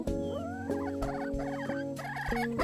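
A talkative frizzle hen vocalizing up close, a run of warbling, gobble-like calls and chatter in quick bursts, fairly quiet and with no speech over it.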